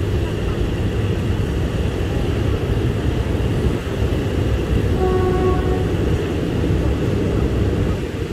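Ordinary train 277 from Bangkok to Kabin Buri, just pulled out of Hua Takhe station, rumbling loudly and steadily from on board, with a brief tonal horn-like note midway.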